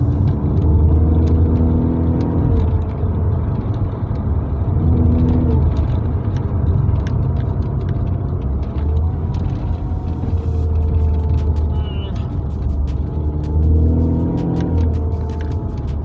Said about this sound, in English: I am basically listening to the engine rather than seeing what it is actually doing.